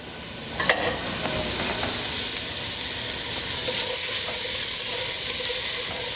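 Chopped onion and carrots sizzle steadily in a pot for Reuben soup, a close, continuous frying hiss with a few soft stirring knocks near the start.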